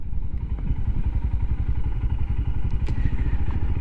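Royal Enfield Himalayan motorcycle exhaust running steadily up close, a loud, throbbing low rumble with rapid regular pulses and no talking over it.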